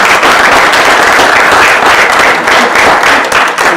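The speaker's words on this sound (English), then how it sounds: "Let's give his mom a round of applause too for doing that." Loud, close round of applause in a county board meeting room at a commissioner appointment, dense continuous clapping filling the whole stretch with no pause.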